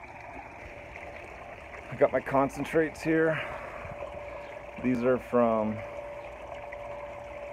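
Water runs steadily through a Keene MiniMax highbanker at about 40 gallons, a continuous close hiss and gurgle beneath someone talking.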